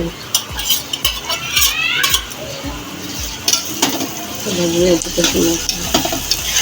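Garlic and green chili frying in a pan, with a steady sizzle, a utensil stirring and scraping against the metal, and light clinks, while a person speaks now and then.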